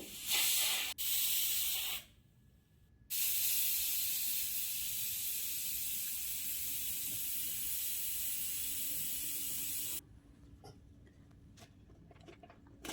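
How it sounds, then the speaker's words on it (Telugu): A pressure cooker boiling moong dal pongal lets off loud, harsh, continuous steam hissing, cut by brief breaks near the start, then runs steadily for several seconds before dropping to a much softer hiss. "5 విజిల్స్ వచ్చేంత వరకు అయితే"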